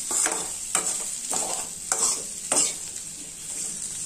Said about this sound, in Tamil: இந்த பூண்டு ரொம்பவும் கருப்பா வறுக்காம ஓரளவுக்கு வறுத்துக்குங்க